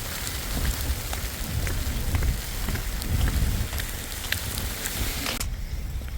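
Steady wet pattering of wet snow falling outdoors, a constant hiss with scattered soft drips, fairly close.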